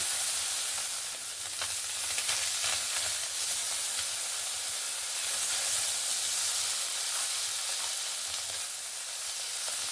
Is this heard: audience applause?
no